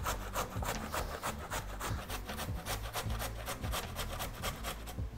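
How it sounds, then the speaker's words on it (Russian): Carrot rubbed on a grater in a kitchen, rapid rhythmic rasping strokes repeating steadily, close and faint with no voices. "натираем морковь на терке"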